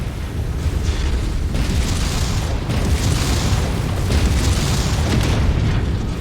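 A destroyed target explodes in a video game, and a loud, dense rumbling roar with surging waves fills the whole stretch without letting up.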